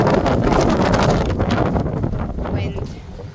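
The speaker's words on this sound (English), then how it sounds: "Hopefully the wind starts to settle down." Wind gusts across a boat camping on the water, a loud, steady roar of buffeting against the microphone that eases slightly toward the end, with people talking underneath.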